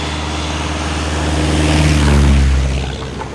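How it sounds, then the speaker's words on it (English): A crop-dusting propeller airplane spraying pesticides over a plantation, a loud broadband engine drone that swells as it passes close, then eases slightly, with no voices. "not just on the ground, but also by plane, crop dusting, as this recent video shows"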